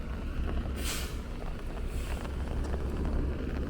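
Rain on a Brooklyn street in Bensonhurst, New York City, with a steady low roar of passing traffic, plus two brief hissing bursts like air brakes or splashing tires from nearby vehicles.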